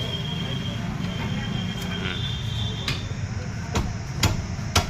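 A spanner works loose the rear wheel bolts on a Maruti Omni, giving a handful of sharp, irregularly spaced metallic clicks and clanks over a steady low background rumble.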